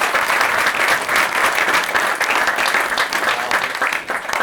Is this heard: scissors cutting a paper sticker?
no